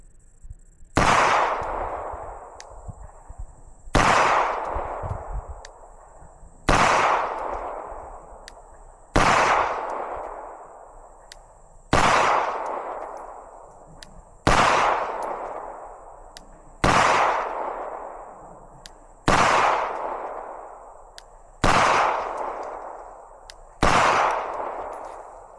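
Ten evenly spaced pistol shots ring out from a 2011-pattern pistol nicknamed the Platypus on a shooting range, each loud crack followed by a long reverberant tail. A faint steady ringing tone sits underneath throughout.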